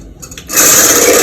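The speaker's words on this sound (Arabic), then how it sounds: "نضرب فيه لحد ما يبقى له اصحاب وتلاقيه عمل فوم كبير قوي لفوق" An electric mixer whipping instant coffee with hot water into foam starts after a brief quiet moment, then whirs loudly and steadily with a high-pitched buzzing drone.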